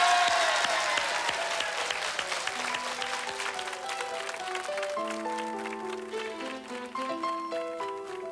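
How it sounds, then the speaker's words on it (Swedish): An audience applauds a band at a Swedish dance-band show, loud steady clapping that fades slightly as sustained musical notes from the band begin to sound over it. "Och ge dem en stor applåd."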